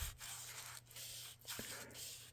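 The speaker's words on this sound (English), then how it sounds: "It's a nice, very fine grained sandpaper." Very fine grained sandpaper rubs across a figure's body in short, soft strokes with brief pauses between them, faint and close.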